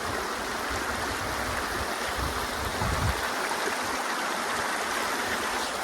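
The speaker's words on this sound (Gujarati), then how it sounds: "જો આવું પાણી છે આપણે તો હાલ્યું જાય છે" A steady wash of flowing floodwater after out-of-season rain on a farm, a constant nearby rushing hiss with slight surges in the low rumble.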